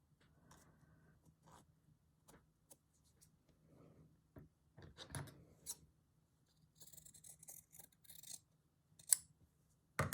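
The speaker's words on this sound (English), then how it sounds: "It's a bit too small to rip, so I'm going to cut it and then fray the edges." Scissors snip through fabric with sparse, dry crunching cuts and rasping slides, close and fairly quiet, in irregular bursts with pauses between them and no talking.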